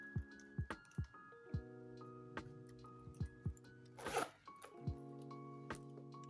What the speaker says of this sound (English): I love the very smooth zippers